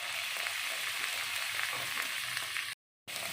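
Chopped tomatoes hit a pan of ginger garlic paste and fry with a steady close sizzle, broad and continuous, with no one speaking, then a sudden brief dropout near the end.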